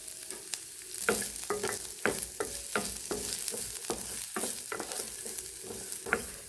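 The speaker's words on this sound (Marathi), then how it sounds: "कांदा परतून घेऊया." Chopped onion sautéing in a little oil in a pan for a mixed-vegetable Bhogi bhaji, with a steady close sizzle broken by repeated sharp scrapes and clicks of a spatula stirring through it.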